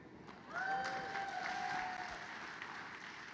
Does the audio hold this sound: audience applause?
yes